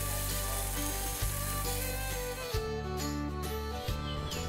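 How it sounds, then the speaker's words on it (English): Speckled trout sizzles and crackles steadily in a hot frying pan, a continuous bright hiss with occasional light clinks of a utensil. "While our speckled trout is sizzling"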